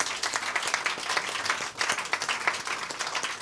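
Studio audience applause at a celebrity talk show, steady many-handed clapping at moderate distance throughout, with no talking.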